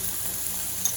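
Egg poured into a hot pan for an omelette, giving a brief, steady sizzle close up with no talking.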